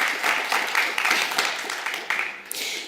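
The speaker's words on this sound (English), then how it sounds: "And a last round of applause for him, please." A conference audience applauds at a global summit session, with a short burst of scattered hand clapping that swells and then fades over a few seconds, heard at moderate distance in a large room.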